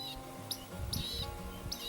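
Western rock nuthatch song: a series of bright, ringing whistled notes repeated at intervals, moderately distant, over a faint low background rumble.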